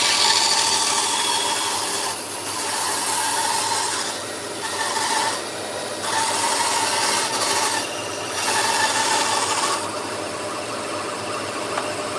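A maple board being cut to give it a straight edge, with a steady close whine of a saw running through the wood in several passes broken by short dips, and no talk.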